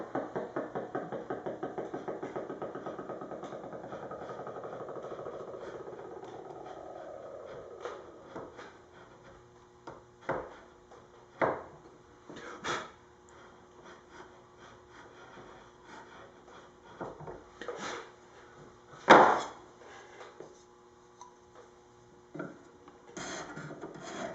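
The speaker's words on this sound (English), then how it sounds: "For this, I'm just going to actually run a chisel." A chisel cutting wood on a Les Paul guitar body, opening with a steady scraping rasp that fades out, followed by scattered close knocks, scrapes and taps at irregular intervals in a quiet workshop.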